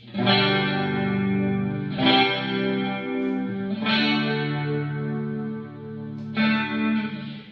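A clean hollow-body electric guitar on both pickups and the neck pickup strums four slow, warm chords that ring out with a slight chorus shimmer, close and moderately loud.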